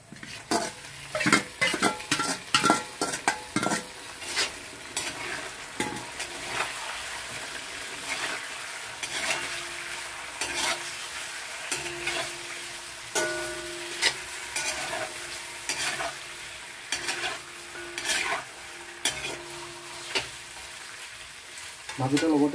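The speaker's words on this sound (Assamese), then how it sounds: "মাংসখিনি ইয়াত অলপ ভাজি ল'ম।" Local chicken meat frying in a pan with browned onions, loud close sizzling with frequent spatula scrapes and clanks against the pot in an irregular stirring rhythm, no talk.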